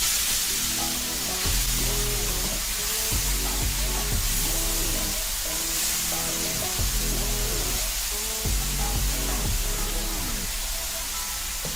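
Grated carrots go into hot desi ghee already crackling with cardamom, giving a steady, bright sizzling hiss with a rhythmic musical backing underneath.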